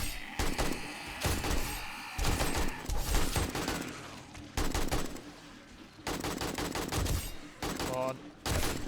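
Bursts of automatic gunfire from shooting zombies during a horde night in the video game 7 Days to Die, loud rapid volleys repeating in clusters with brief pauses between them.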